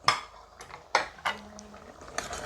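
Mango and drumstick curry stirred in a pot, a short run of metal spoon clinks and scrapes against the vessel, close and fairly loud, with no talking.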